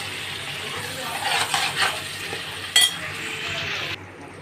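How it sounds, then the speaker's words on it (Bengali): Taro and potato frying with turmeric in a pan, steady sizzle with stirring scrapes and a sharp clink of a utensil against the pan, close and moderately loud. "গাটি কচুটা আর আলুটাকে আমি খুব ভালো করে লাল লাল করে"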